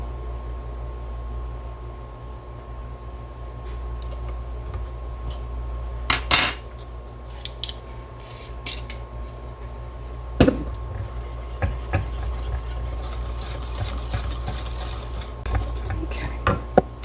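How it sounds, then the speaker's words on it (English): Lemon cobbler batter stirred by hand in a bowl, giving soft scraping and occasional utensil clinks against the side, with a steady low hum underneath and a few sharper taps near the end. "All you have to do is just stir it up, get the lumps out, or most of the lumps"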